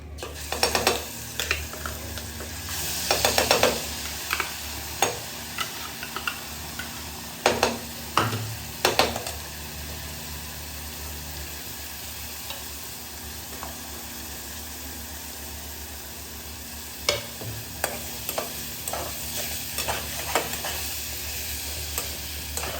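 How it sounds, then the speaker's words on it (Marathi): Masala paste and onion fry in a pan for chicken sukkha, a steady sizzle with bursts of stirring and scraping early on and again near the end, close up with no talk. "यामध्ये आपण ही पेस्ट आणि कांदा घालून घेणार आहोत लगेच."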